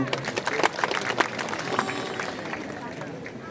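Applause from a seated audience greets an Indonesian deputy minister at the night opening of the Bali Arts Festival, a steady wash of many hands clapping over a busy crowd murmur, loudest at the start and thinning slightly toward the end.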